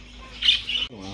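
A parrot calls at a zoo, a short bright squawk rising over background chatter and crowd noise, close and moderately loud, with people talking nearby.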